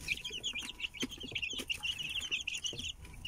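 A yellow hen clucks steadily in a coop while her chicks peep in high, rapid, continuous chirps, close and moderately loud, with no voices.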